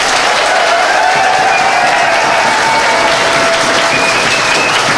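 An audience of schoolchildren claps for a teacher, dense sustained applause from a crowd, loud and even throughout with a faint voice or two beneath.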